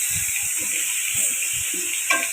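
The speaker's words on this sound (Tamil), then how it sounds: "இது கொஞ்சம் நல்லா வதங்கட்டும். வெங்காயம்" Chopped onions with a little salt sauté in a pan for chicken gravy, giving a steady close-up hiss with soft low thuds of stirring underneath and no one speaking.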